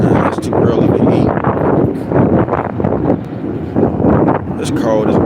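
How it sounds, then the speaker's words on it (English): Strong outdoor wind buffets the microphone in loud gusty rumbles that rise and fall, while someone talks over it. "It's windy as a motherfucker out here, man."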